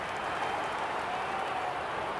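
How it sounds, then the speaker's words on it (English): Steady, distant roar of a stadium crowd with scattered applause ahead of an Australian football match between West Coast Eagles and St Kilda, continuous and even throughout. "The crowd already making plenty of noise as the captains come together."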